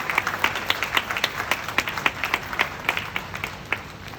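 A university ceremony audience claps, individual hand claps clearly separated and uneven, a modest crowd whose applause stays fairly steady before thinning toward the end.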